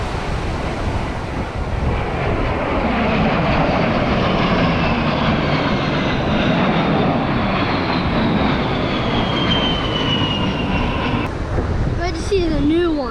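Air show jets, Thunderbirds, roar low over the beach at Ocean City, Maryland: a loud, continuous engine rumble blended with wind and surf that sweeps past, with voices talking briefly near the end.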